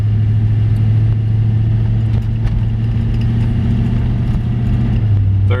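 A 1955 Chevy Bel Air hardtop with a 350 engine and 700R4 transmission cruises in second gear, its steady low engine drone loud and close throughout, with a slight shift in pitch near the end.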